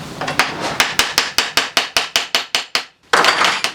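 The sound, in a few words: hammering to loosen a nut on a Yamaha YZ 250 motocross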